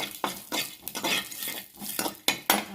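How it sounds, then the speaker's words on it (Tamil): Cumin seeds and urad dal being sautéed in a pan for a capsicum potato kootu: a spoon scrapes and stirs in repeated bursts over a light sizzle, with occasional metallic clinks, close and fairly loud. "கொஞ்சம் ஜீரகம், கொஞ்சம் உளுத்தம்பருப்பு போட்டு நல்லா வதக்கிக்கோங்க"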